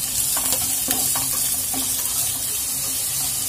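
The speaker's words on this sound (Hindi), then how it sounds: "अब हम अपने प्याज को हल्का हल्का ब्राउन कर लेंगे।" Chopped onions with cumin seeds and a bay leaf sizzle steadily in hot oil in a pan, a loud continuous hiss with occasional stirring scrapes close by and no talking.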